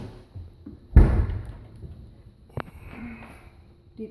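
A deep kitchen drawer is pushed closed with one solid, fairly loud thump that rings out briefly, followed by a faint click a moment later in a quiet room.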